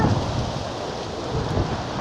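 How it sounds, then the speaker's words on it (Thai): A thunderstorm rolling in over Mae Sai, a constant roar of rain and wind with low rumbling thunder underneath, loud and unbroken. "พายุมาแล้วครับพายุมา"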